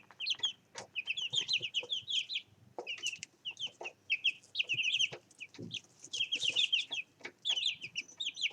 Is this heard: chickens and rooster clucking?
yes